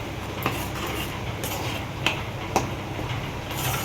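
A spoon stirring salt into an egg masala in a pan, with soft continuous scraping and a few sharp metallic clinks against the pot, close and alone.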